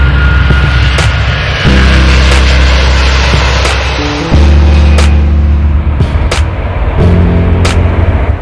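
Airplane engine roar during a takeoff run, a loud steady drone that holds throughout with shifting low tones and a few sharp clicks, and no voices.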